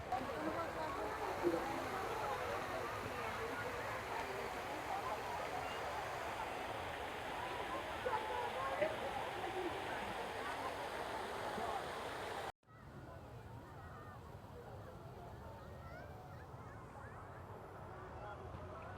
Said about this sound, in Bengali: তো আমরা এবার চলে আসলাম ঝর্ণার এখানে।